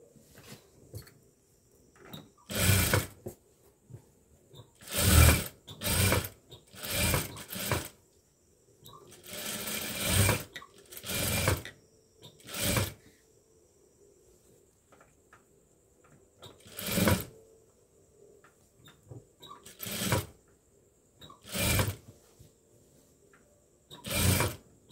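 A domestic sewing machine stitches a garment sleeve in short separate bursts of whirring, each lasting about a second, with quiet gaps between them and light handling noises.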